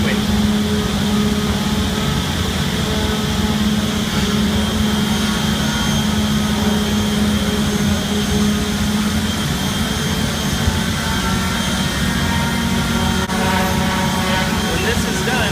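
An Isel CNC machine with an automatic tool changer and vacuum table runs with a loud, steady roar and a constant low hum that never lets up.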